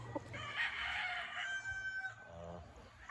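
A fighting stag rooster being readied for a stag derby crows once, loud and close, a rising then drawn-out cock-a-doodle-doo with no talk.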